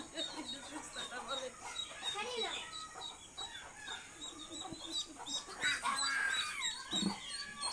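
A rooster clucks close by in short repeated calls while people talk and chatter around it.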